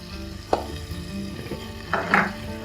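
Onion frying together with chicken in a pan for a Palakkad chicken fry, a steady moderate sizzle with a few sharper stirring scrapes and crackles.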